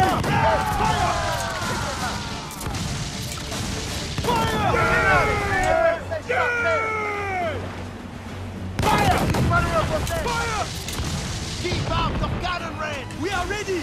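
Ship cannons in the Assassin's Creed: Freedom Cry video game fire in repeated loud booming volleys during a naval battle, with shouted voices calling out over the gunfire throughout.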